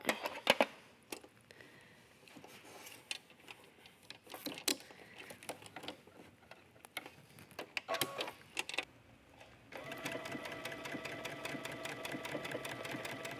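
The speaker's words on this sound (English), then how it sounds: "go ahead and stitch that buttonhole" A sewing machine stitches a buttonhole on fabric backed with fusible interfacing while making drawstring waist pants; scattered clicks and handling noises come first, then a steady close whirring run takes over for the last few seconds.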